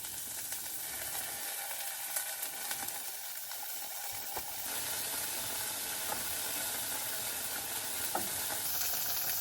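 Tofu pieces pan-frying, a steady close sizzle and hiss with scraping stirs, growing a little louder and denser in the second half.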